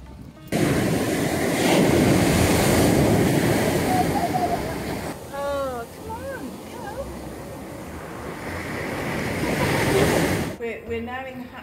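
Waves wash steadily onto a Sri Lankan beach by a turtle hatchery, with wind rushing across the microphone; a brief high chirping cry rises midway and again near the end.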